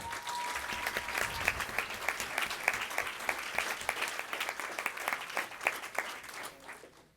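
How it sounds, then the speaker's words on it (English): Steady applause from a sizable audience at a school district board meeting, many hands clapping at an even pace before tapering off at the end. "The clapping has been just as strong for the first one as the last one"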